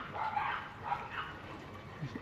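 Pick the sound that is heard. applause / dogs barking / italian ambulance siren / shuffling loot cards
dogs barking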